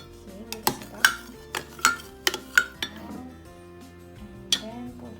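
A utensil stirs a soy sauce, toyo and water mixture in a bowl, giving a series of sharp clinks and taps against the dish with pauses between, close and clear.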